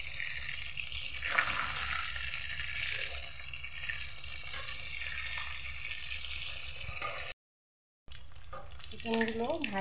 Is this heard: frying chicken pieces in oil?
yes